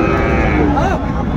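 A Sahiwal bull calf lets out a loud, drawn-out moo close by at a busy cattle market, its voice rising and bending over a dense crowd murmur.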